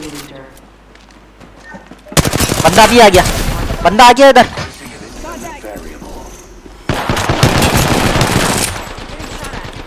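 Bursts of machine gun fire from a video game battle ring out loudly in two long stretches, with rapid repeated shots, while players talk excitedly over the gunfire.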